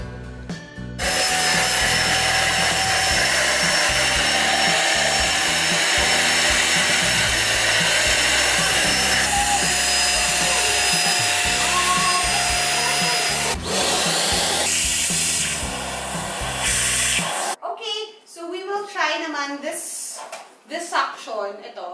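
A Deerma DX700 vacuum cleaner, used handheld with a floor brush fitted, runs with a steady loud whir for about seventeen seconds, then cuts out and a person starts talking.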